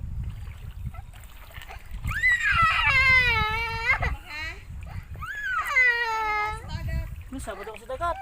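A small child cries and wails in rising, drawn-out sobs with short breaks between them, loud and close, while an adult speaks softly nearby by the sea.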